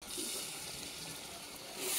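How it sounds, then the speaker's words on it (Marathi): Water is poured from close by into a spiced masala of ground green chickpeas (sole) for a Vidarbha-style curry. It makes a steady, continuous splashing rush that swells slightly at the end, with no talking. "आता त्यामध्ये आपण टाकणार आहोत पाणी."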